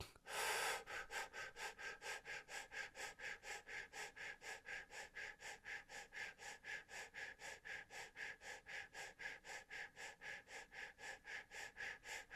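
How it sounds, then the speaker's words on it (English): Gentle breath-of-fire breathing exercise: a long, steady run of quick rhythmic nasal exhalations, dozens of evenly spaced puffs after one stronger opening breath, close and soft, with no talking. "Gentle fire breath."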